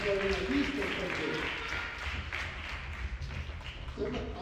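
A crowd claps loudly and steadily for the trumpeters at a school band rehearsal, the applause filling the space while some voices talk over it at the beginning and end.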